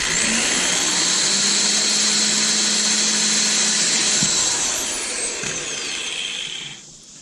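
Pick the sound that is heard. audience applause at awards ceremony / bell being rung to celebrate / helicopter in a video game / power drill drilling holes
power drill drilling holes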